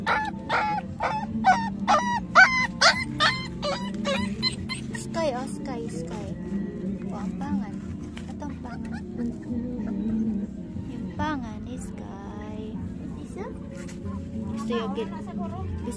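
A pet dog barks and whimpers in short yips near the start, then quieter whines continue intermittently beneath steady conversation and household background noise.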